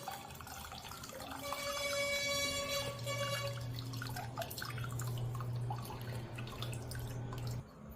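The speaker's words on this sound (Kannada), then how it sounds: "ನಾರ್ಮಲ್ ವಾಟರ್ನ ಹಾಕ್ಕೊಂಡು ಸ್ವಲ್ಪ ಹಂಗೆ ವಾಶ್ ಮಾಡ್ಕೊಳ್ಳೋಣ" Running water rinses masala paneer, a steady close splashing and dripping stream that lasts throughout with a faint background hum.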